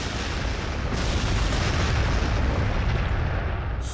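Artillery fire in the Warhammer 40,000: Sanctus Reach strategy game: a dense, sustained roar of booming blasts and bursts that fills the whole span, loud and continuous, with no talking over it.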